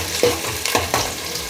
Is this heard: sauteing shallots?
yes